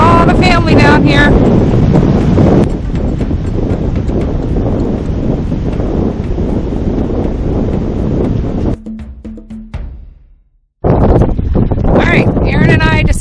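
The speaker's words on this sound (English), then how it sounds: "It's pretty windy, but not nearly as windy as the days before" Strong wind on the shore at Rocky Point, Mexico buffets the microphone in a loud, continuous roar, with a short drop-out near the end before the gusting resumes.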